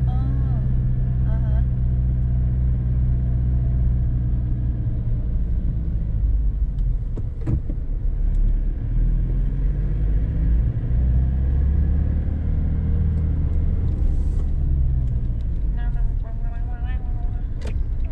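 A car with a big engine rumbles past on a street in Estelí, Nicaragua, a loud, steady low drone with a swell in the middle, while people talk nearby.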